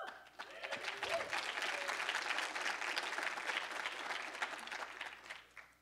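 Audience at a startup demo day breaks into sustained applause, a dense wash of many hands clapping steadily for several seconds before tapering off.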